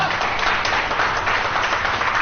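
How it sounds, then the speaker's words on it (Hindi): Audience applause at a Hindi poetry open mic, a continuous wash of many hands clapping in a small room, steady and fairly loud for its whole length. "तो पहले एक बार अपने लिए जोरदार तालियां बजा दीजिए।"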